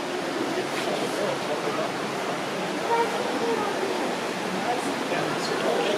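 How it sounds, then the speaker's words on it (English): Steady rushing water of an underground river in Meramec Caverns fills the space, a continuous broadband wash echoing through the enclosed cave passage. "But you can hear the water."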